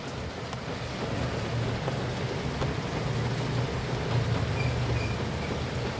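Steady rain falling, a continuous dense hiss with a low rumbling undertone throughout, fairly close and even in loudness.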